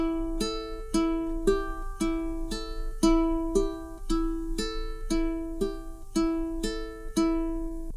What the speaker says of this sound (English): Now we're going to do our 2nd ukulele finger picking pattern.